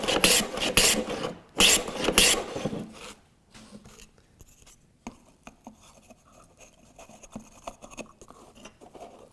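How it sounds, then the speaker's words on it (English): A hand plane takes shaves off a wooden piece for a jewelry box on a bench hook used as a shooting board, giving several loud raspy close strokes followed by quieter scraping and handling. "I'm using it, like I said, as a shooting board, and I'll just shave some off."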